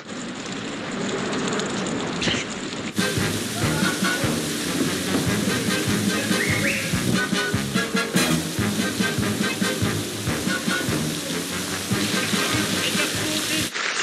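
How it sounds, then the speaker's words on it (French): Heavy rain pouring down in a wood, a dense, loud, continuous hiss that swells suddenly after a quieter start and keeps up steadily throughout, with no talking. "il pleut"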